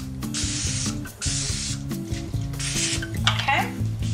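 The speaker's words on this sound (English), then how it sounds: "you're going to spray your pan with a little bit of Pam" Cooking spray is hissed onto a baking pan for a spaghetti squash lasagna in three or four short, close bursts over steady background music.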